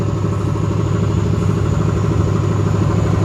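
A rough, steady engine of an old 1978 Chevrolet C10 pickup with a gone exhaust idles close by with a low rumbling clatter, running continuously without any voices.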